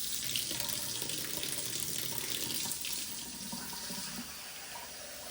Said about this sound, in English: I'm just going to go ahead and actually just fill it up from our tap water.